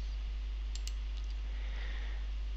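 A computer mouse gives a short double click, crisp and close, in a quiet room with a low steady hum behind it.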